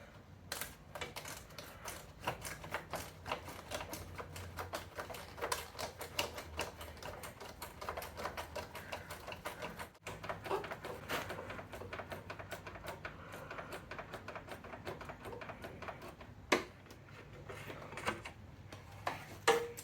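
A ratchet works two 10 mm nuts loose behind a car headlight bucket, rapid clicking in bursts with occasional metallic taps, close and alone.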